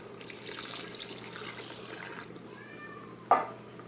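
A cup of water is poured into a pot of stewing chicken with green corn and pequi, giving a couple of seconds of soft splashing that fades, then quiet kitchen sounds and a brief sharp knock.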